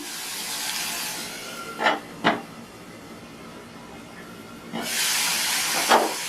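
Cucumber steams in a covered pan with a soft continuous hiss, two quick knocks of the lid, then a louder rush of steam and a short clatter.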